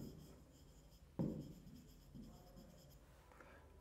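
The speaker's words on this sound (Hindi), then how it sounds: "नेक्स्ट रूल के लिए पहले मैं यहां पर लिखता हूं" Chalk or marker writes on a board in a quiet room, soft scratchy strokes in short bursts with a few louder taps as it meets the surface, close and faint.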